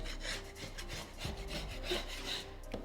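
A scraper works along a drywall edge around a window, producing a steady, close rasping scrape in repeated strokes, fairly quiet, with no voices.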